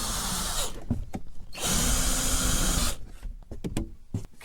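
A cordless drill drives a screw for a van project in two close, loud bursts of whirring, each a little over a second long. Short clicks and handling knocks fill the gaps, with no talk.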